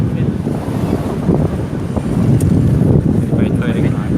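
Sea waves and steady wind at a beach, a continuous broad roar of surf and gusting wind buffeting the microphone throughout, loud and close, with faint voices underneath.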